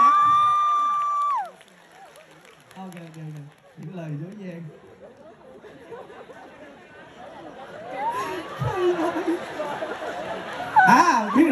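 A Vietnamese café audience cheers, claps and chatters for a singer after a sung note fades, with the noise swelling louder toward the end and shouts over the clapping.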